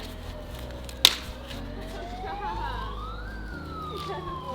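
Police car siren wailing at a distance, a rising and falling tone that sweeps up and down steadily behind low outdoor background noise, with a brief sharp knock early on.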